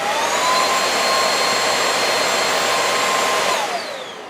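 A Heifer Quiclean Pro 22.2 V cordless stick vacuum runs with a steady, loud motor whine and high tonal hum, then spins down near the end after about three and a half seconds.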